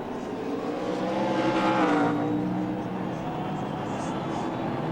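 NASCAR Xfinity Series cars racing at Circuit Gilles Villeneuve in 2007, several engines roaring together in a steady, dense drone that swells and shifts pitch as the pack charges toward a hairpin.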